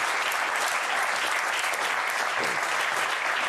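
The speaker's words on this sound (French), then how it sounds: "Jeff, qu'on peut applaudir." Steady audience applause fills the whole stretch, a dense, even wash of many hands clapping at a constant loudness with no break.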